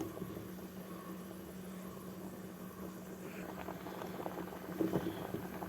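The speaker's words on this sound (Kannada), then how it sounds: "ಈಗ ಇದು ಚೆನ್ನಾಗಿ ಕುದೀತಾ ಇದೆ." Foxtail millet simmering in a mud pot on a stovetop, giving a soft, steady bubbling with a low hum underneath and a few louder plops near the end.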